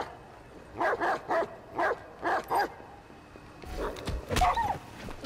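Dogs in the video game Watch Dogs 2 bark in a quick series of about six sharp yelps, then a louder, rougher burst of barking and whimpering follows, close and clear with no talk.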